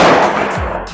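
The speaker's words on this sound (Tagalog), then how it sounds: "Firing." A Ruger Max 9 pistol fires a single loud, sharp shot at the indoor Armscor Marikina shooting range, with the report ringing close and then trailing off into the room's echo.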